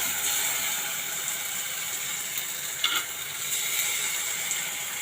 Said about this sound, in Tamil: அது பச்சை வாசனை போகிற அளவுக்கு வதக்கி விடணும்.